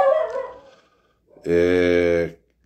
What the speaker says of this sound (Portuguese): Essa é minha esposa xingando os cachorros